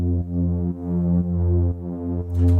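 Synth bass line made in Serum with thick detuned unison voices, pulsing in a steady repeating pattern of sustained notes with brief dips between them, loud and upfront without any speech.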